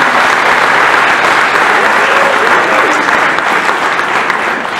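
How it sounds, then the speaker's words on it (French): Sustained, loud audience applause at a Miss Comines 2019 pageant evening, dense steady clapping from a large crowd that holds evenly throughout and tapers slightly at the end. "je pense qu'il mérite vos applaudissements"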